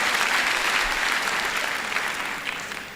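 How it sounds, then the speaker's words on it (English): A large audience at a university autumn graduation ceremony claps loudly and continuously, a thick, sustained roar of hands that eases slightly toward the end, with no talk over it. "Can we also give them a big round of applause?"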